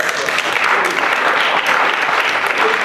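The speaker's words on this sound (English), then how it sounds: "Give him a round of applause" An audience at a celebration event gives a sustained round of applause, loud, thick and steady clapping throughout with no pauses.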